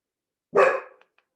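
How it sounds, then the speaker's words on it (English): A single sharp dog bark, close and fairly loud, trailing off quickly into silence with a faint tick or two after. "Let the sound of the barking dog bring you down deeper"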